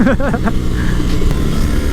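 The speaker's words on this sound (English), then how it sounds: "I just love the sound of that boxer engine when you're coming out of corner exit." A BMW R18 B motorcycle's boxer engine revs hard out of a corner exit, a loud, close, throaty drone with brief rising pitch sweeps at the start, then a steady roar.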